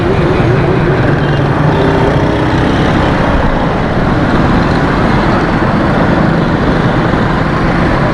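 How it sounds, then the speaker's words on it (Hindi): Heavy road traffic in a jam, a dense, loud and continuous roar of engines and vehicles close by with no clear gaps. "बहुत बुरा हाल है ट्रैफिक का,"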